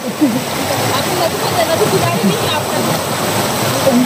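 A river running through a jungle gushes and splashes all around from midstream, a loud continuous churn with small splashes and faint voices beneath it.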